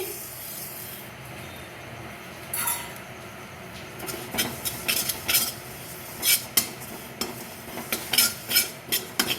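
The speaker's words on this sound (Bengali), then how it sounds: "এই তিলটা আমি একটুখানি ভেজে নেব এটা প্রথমেই ভেজে নিচ্ছি" White sesame seeds dry roasting in a pan, stirred with a spatula: a quiet dry hiss, then a run of distinct, rhythmic scraping strokes against the metal, growing more frequent toward the end.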